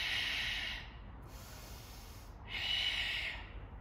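Two forceful exhaled breaths, close and loud, during a golf swing drill, each a breathy hiss lasting under a second, separated by a quieter pause.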